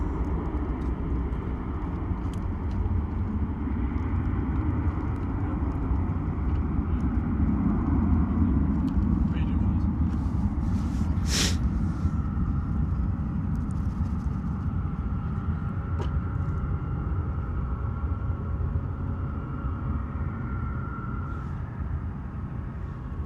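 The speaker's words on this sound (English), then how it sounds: "full noise there from the Ryanair 737A. Full noise, absolutely amazing." A Ryanair Boeing 737 climbs away after takeoff at Luton, its jet engines a loud, steady, broad rumbling roar that holds for over twenty seconds, with a few sharp clicks and knocks nearby.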